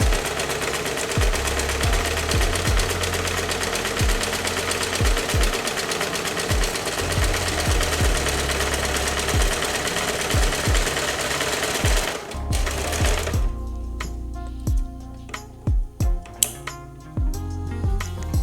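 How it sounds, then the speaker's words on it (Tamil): A Usha Janome Dream Stitch sewing machine stitches at steady high speed with an even, loud mechanical whir and knock. It stops after about twelve seconds, leaving a few scattered clicks and handling noises. "இப்போ எஃப்பில் வச்சுட்டு இனி ஸ்டிச் பண்ண ஸ்டார்ட் பண்ணுவோம்."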